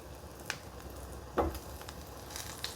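Chicken frying in olive oil in a skillet, a faint steady sizzle with a couple of brief crackles and a soft clink, no voices.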